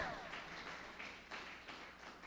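Applause from a church congregation, a diffuse wash of many hands clapping at moderate distance that swells in a few waves, fairly faint, with no talking over it.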